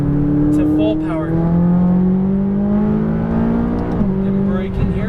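A McLaren 570S on a race track, its engine droning and rising in pitch under full throttle, with a slight dip and shift near the end while a driver talks over the engine noise inside the car.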